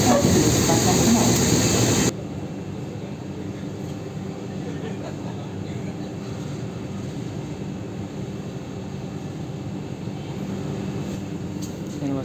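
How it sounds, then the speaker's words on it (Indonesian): Sawung Gali passenger train pulling into Cirebon station in Indonesia, heard as a loud hiss and rumble that drops abruptly after two seconds into a steady low rolling drone with a faint hiss over it. "Segera masuk kereta api Sawung Gali."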